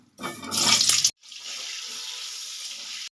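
Potatoes dropped into hot mustard oil with a little salt give a loud burst of sizzling, a brief gap, then a steady hissing fry that carries on evenly to the end.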